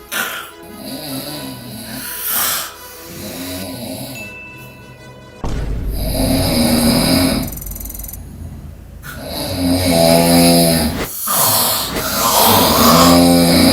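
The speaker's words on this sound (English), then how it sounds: "Yo, his snoring is outlandish." A man snores loudly and raggedly, with long rasping inhales and snorting breaths repeating every couple of seconds, close and dominating the sound.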